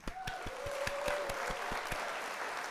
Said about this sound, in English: let's hit the old applause